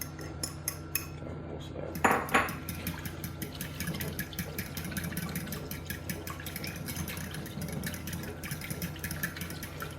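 A utensil stirs a coffee blossom mead mixture in a container, giving a steady run of faint, close clinks and scraping taps with a soft liquid swirl and one brief louder knock.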